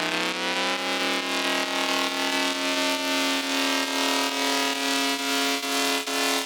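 A bright, buzzy synth tone sustains loudly, its pitch sliding gradually upward at the start and then holding, with subtle rhythmic pulsing throughout.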